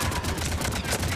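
Rapid gunfire in the video game Mass Effect 3: a dense run of quick, evenly spaced shots with booming low thumps, continuous and loud for the whole short stretch.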